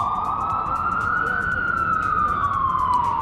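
An ambulance siren on a New York City street wails in a loud, steady sweeping tone, close by and with no talk over it.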